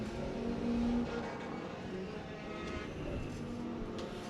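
Several race cars thunder down the back straightaway at Penn Can Speedway, a sustained loud engine roar with passing surges and faint announcer-like voice underneath.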